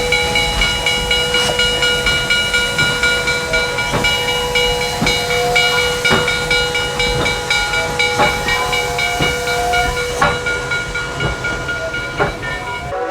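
A vintage steam locomotive sits at a railroad stop, loud and close. Its whistle holds a steady tone over constant hissing steam, and sharp exhaust chuffs come at a regular beat.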